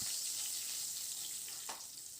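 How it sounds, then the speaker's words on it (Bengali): Nigella seeds and split green chillies frying in hot oil for a spicy fish curry, giving a steady, close, fairly quiet sizzle with one brief louder crackle near the end and no talk. "ওই তেলের মধ্যে হাফ স্পুন এখানে কালো জিরে দিয়ে দিয়েছি আর এখানে দুটো কাঁচা লঙ্কাকে দুভাগ করে দিয়ে দেবো এই তেলের মধ্যে"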